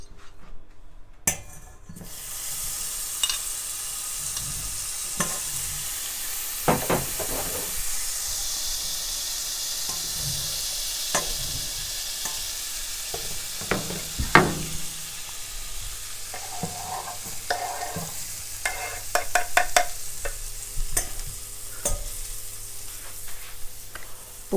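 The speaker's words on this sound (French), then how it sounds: "Je vais donc maintenant la déposer dans la poêle avec le beurre." Minced shallot sizzling in butter in a frying pan, a bright steady hiss after a pan clatter, broken by occasional scrapes and taps of a utensil.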